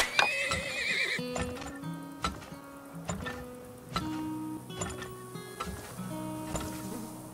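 A horse whinnies loudly at the start in the video game Turmoil, followed by steady clip-clop hoofbeats and sparse game music notes.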